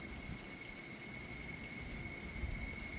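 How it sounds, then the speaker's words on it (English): Steady rain and rumbling thunder of a strong thunderstorm, with low booming swells under a constant wash of rainfall and a faint steady tone throughout, no talking. "Strong thunderstorm."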